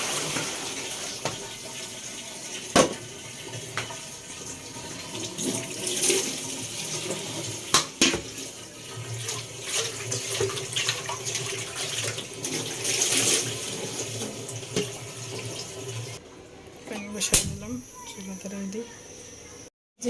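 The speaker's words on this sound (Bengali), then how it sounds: "বেশি ময়লা পানি বের হয়নি আর একটা ধোয়া দেবো" Dirty pants are rinsed by hand in water, with splashing, sloshing and water pouring in uneven bursts close by, and a few sharp knocks along the way.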